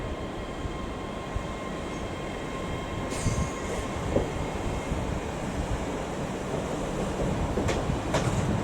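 A steady low rumble of a train departing Edinburgh Waverley station, with faint metallic squeals and clanks drifting over the continuous noise.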